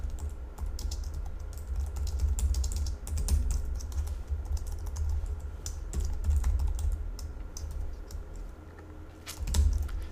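Rapid computer keyboard typing runs steadily throughout while someone enters names into code, with dense, close clicking keystrokes and no talking.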